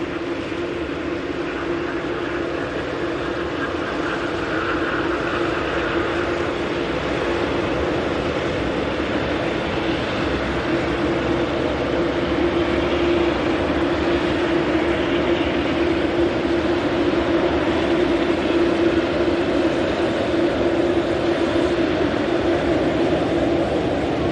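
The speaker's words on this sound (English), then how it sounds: "Sound from the 787 Dreamliner" A Boeing 787 Dreamliner at Manchester Airport produces a loud, steady jet engine roar with a sustained low drone and broadband rush throughout, no voices.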